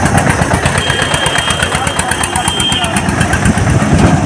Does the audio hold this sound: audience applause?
no